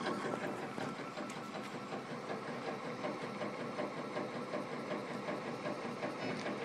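A laser engraver works on drumsticks with a steady, faint mechanical whirring and buzzing hum, constant and unbroken throughout, no voices.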